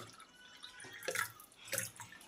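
Cold water from the freezer splashes faintly in two short bursts as it is poured into a glass, with no talking.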